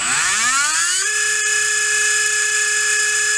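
A HobbyWing V10 G4R 17.5T brushless RC motor spins up with a rising whine that climbs fast, then holds a steady, loud, high-pitched scream close by.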